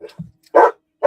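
A pet dog barks at a grandson, giving a quick yip followed by two loud, close barks in under a second, with no talk.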